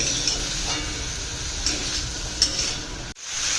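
Spring onions stir-fry in a hot pan with a constant close sizzling hiss and a few light clicks of the spoon, then cut off abruptly near the end.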